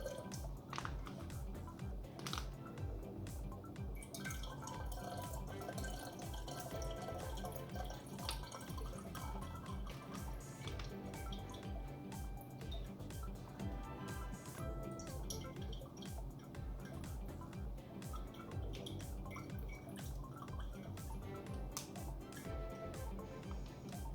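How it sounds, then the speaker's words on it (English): Kombucha SCOBY and its liquid pour slowly from a bag into a brewing vessel, making continuous trickling, dripping and glugging liquid sounds with soft squishy splashes, close up and fairly quiet throughout. "we want to add the entire contents of the SCOBY bag. Go slow, people."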